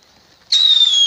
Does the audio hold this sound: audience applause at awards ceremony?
no